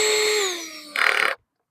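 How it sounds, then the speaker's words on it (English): Power drill backing star-head screws out of an automatic dual gate opener with a plastic housing: a close whining spin that winds down, then a short loud burst of grinding before it stops dead. "ratchet your drill back some so it don't strip something out"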